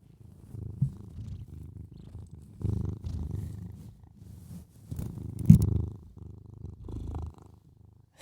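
A cat named Bullet purrs up close, a steady low rumbling pulse that swells and fades in waves with each breath, with a few soft bumps of handling along the way.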